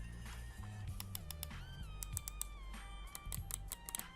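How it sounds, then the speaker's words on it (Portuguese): Clicks from a wireless gaming mouse come as a string of sharp, close taps at an irregular pace, with faint chirpy tones in the quiet background. "E o barulho do clique é esse aqui"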